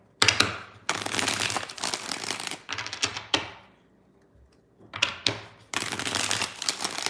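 Several bursts of crisp, fluttering tarot card shuffling, each riffle lasting about a second or two with short pauses between, close and fairly loud.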